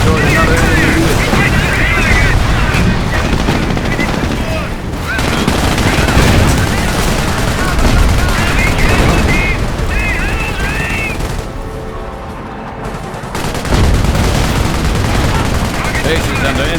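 Dense, heavy gunfire and explosions hammer a base during the Operation Market Garden Highway 69 mission in the World War II strategy game Company of Heroes, with machine-gun bursts rattling continuously and briefly thinning before surging back.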